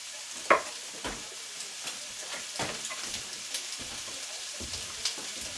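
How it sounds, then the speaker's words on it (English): Onions sweat in a hot pan for a keto shrimp bowl, giving a soft, steady sizzle broken by a few sharp stirring scrapes and clinks. "Always sweat the onions."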